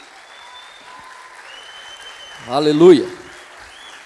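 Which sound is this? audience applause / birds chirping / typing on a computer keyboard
audience applause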